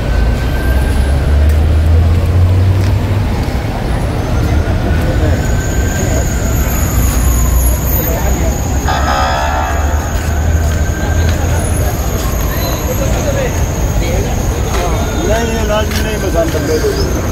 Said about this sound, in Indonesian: Ini sudah biasa ya kalau di hari raya Idul Fitri kota Mekah ini macet seperti ini ya